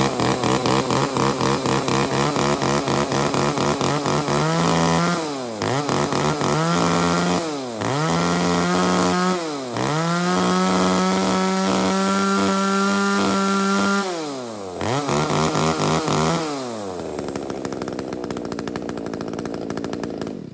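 A 33cc gasoline chainsaw runs loud and close throughout, repeatedly revving up and dropping back as it bites into wood, then settling to a lower idle at the end.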